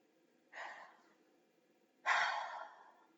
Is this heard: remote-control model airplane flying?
no